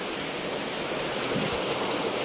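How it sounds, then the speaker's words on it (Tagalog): Steady rain falls in a dense, even hiss, close and continuous with no voices over it. "Ulan"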